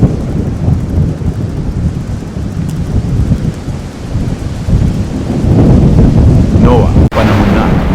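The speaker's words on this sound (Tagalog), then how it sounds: "Ang langit ay unti-unting nagdidilim at nagsisimula ng bumuhos ang ulan." Heavy rain pours down as a storm begins, a dense steady roar with low rumbling thunder beneath it that swells louder toward the end, along with a brief sharp crack.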